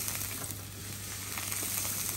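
Garlic sizzles and crackles steadily in a hot frying pan, a dense continuous hiss with small pops, close and alone without any talk.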